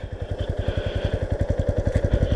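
A 2017 Yamaha Ténéré 250 trail motorcycle engine idles close by, with a steady, rapid low-pitched thumping pulse that holds an even rhythm throughout, with no voices over it.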